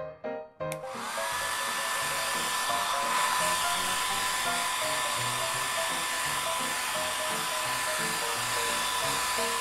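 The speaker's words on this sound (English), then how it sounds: "Now we just need to dry your hair." A hair dryer switches on after a brief click and blows steadily, a loud close whine that holds alone without a break while drying a Barbie doll's hair.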